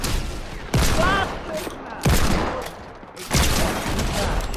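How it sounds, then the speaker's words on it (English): Gunfire in the video game Fortnite during a murder mystery custom match: three loud, sharp shots spaced about a second apart, each with a short decaying tail, alone without talk. "I'm shooting at you, man!"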